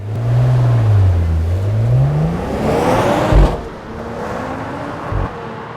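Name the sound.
Mercedes-AMG CLE53 engine heard from outside the car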